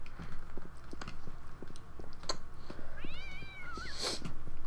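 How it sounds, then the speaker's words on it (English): A cat meows in the video game Postal 2, a clear rising and falling yowl near the middle, set against steady rhythmic background noise with clip-clop-like thuds. "I'm gonna shoot this fucking cat."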